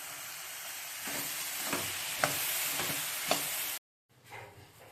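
Spiced pizza sauce with sugar and salt simmering in a pan, a loud steady sizzle and hiss with several stirring scrapes, then a sudden cut to silence before the sizzle resumes more faintly.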